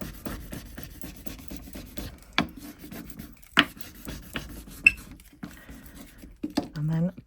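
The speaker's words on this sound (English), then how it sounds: "Just going to use a squeegee to rub that down." A squeegee rubs a UV DTF transfer down onto a resin candle tray, making soft, close scraping strokes in a steady rhythm with a few sharper taps.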